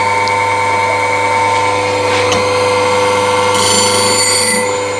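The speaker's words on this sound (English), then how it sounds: "now finally you grind the bottom bevel" A scraper's bottom bevel being ground on a grinder with a platform rest, giving a steady, loud continuous whine with stable tones throughout and a brighter rasping edge toward the end.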